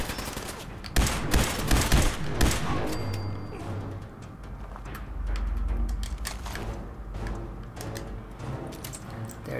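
Dense, continuous gunfire from a firefight in Fallout 4, with rapid volleys and automatic bursts stacking into a loud barrage, plus deep low booms and some mechanical clatter.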